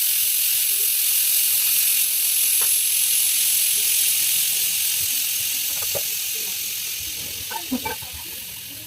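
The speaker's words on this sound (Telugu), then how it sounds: "ఆనియన్స్, తెల్లగడ్డ, ఎండుమిర్చి, కరివేపాకు వేస్తాను, ఆవాలు, జీలకర్ర ఆయిల్లో వేసి" Onions, garlic, dried chilies, curry leaves, mustard seeds and cumin sizzle in hot oil with a loud, steady hiss that fades slightly toward the end. A few faint pops and clinks sound near the close.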